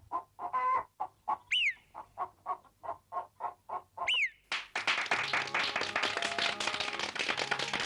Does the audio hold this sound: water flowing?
no